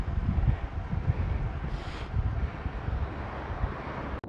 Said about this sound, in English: Lovely morning, except for this fairly strong headwind.